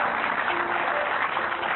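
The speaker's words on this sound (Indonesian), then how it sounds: "hadirin dan pemirsa, tepuk tangan yang luar biasa" Audience applause at an event, a continuous, even wash of many hands clapping heard from a distance, with a faint tonal hum beneath and no voices.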